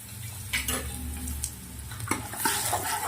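Chopped garlic, five dried chillies, asafoetida and curry leaves fry in hot oil with a steady sizzle, while a spoon stirs and scrapes against the pan in a few distinct strokes, close and clear.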